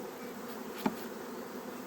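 A steady, low drone of honey bees buzzing close by at a hive, with one brief louder blip near the middle.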